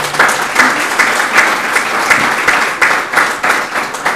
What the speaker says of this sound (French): puisque j'ai gagné des applaudissements